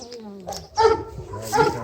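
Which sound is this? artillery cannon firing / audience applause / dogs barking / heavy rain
dogs barking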